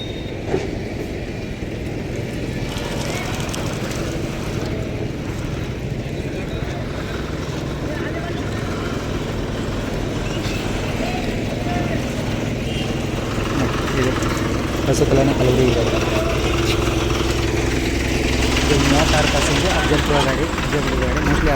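A heavy diesel bus engine idles and rumbles at a busy Kalaburagi bus station, steady and loud throughout, while someone talks over the noise near the Hospet–Kalaburagi night service bus.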